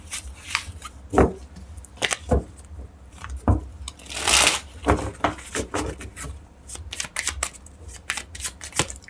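Tarot cards being shuffled by hand in a series of quick riffles and slaps, close up, with one long dense burst of cascading cards in the middle and softer taps around it.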